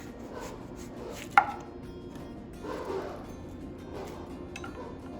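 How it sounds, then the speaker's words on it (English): A knife chops through an onion to trim away its brown outer layer, with one sharp, loud cut standing out among softer, quieter knife sounds on a cutting board. "And then you can cut off the rest of that brown part."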